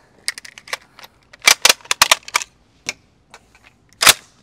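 Sharp metallic clicks and clacks of cartridges being loaded into the magazine of a customized Swiss K31 rifle, in irregular close bursts with quiet gaps between them.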